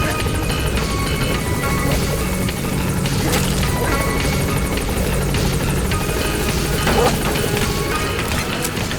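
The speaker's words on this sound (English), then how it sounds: "Support helicopter has arrived." The support helicopter in Metal Gear Solid 5: The Phantom Pain hovers nearby, its rotor drone loud and continuous, broken by a couple of sharp thuds and clanks.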